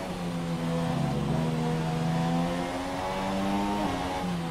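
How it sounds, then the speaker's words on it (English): An F1 2017 race car in the video game enters the pits, its engine holding a steady buzzing whine with pitch shifts as the pit limiter engages, close and continuous. "he's now coming into the pits, putting on the pit limiter"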